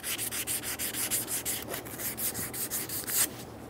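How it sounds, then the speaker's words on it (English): Emery cloth scrubbing the surface of a 2000–2007 Ford Focus front wheel hub, quick repeated rubbing strokes close to the mic, with no speech over it. "We're going to take a piece of emery cloth and clean up the surface of this hub."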